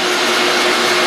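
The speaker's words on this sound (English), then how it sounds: "That's a little compact vacuum you're using for blowing sawdust." A compact shop vacuum rigged as a blower clears sawdust off a carved wooden motorcycle piece, giving a loud, steady, even whine with a broad airy hiss and no pauses.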